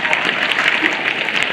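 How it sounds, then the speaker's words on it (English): Applause from an audience of students and judges after a speech at a primary school inter-house debate semi-final, a steady brief burst of clapping filling the whole moment without voices. "A round of applause for that."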